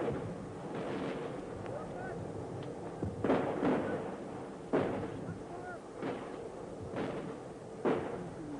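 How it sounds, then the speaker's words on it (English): Artillery shells exploding during the Vietnam War, a series of deep, heavy booms roughly every second or so, heard at a distance over a continuous noisy background. "But when artillery arrives, when it drops down Charlie's throat, it's the most beautiful,"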